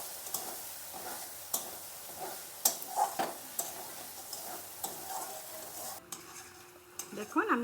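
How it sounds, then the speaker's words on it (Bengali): Potatoes frying and being stirred in a pan with spices for a Bengali katla fish curry: a soft sizzle under repeated scraping and clinking stirs, close and moderately loud, with no talking. "আলুগুলো দিয়ে ভালো করে একটু কষিয়ে নিয়ে দেবো।"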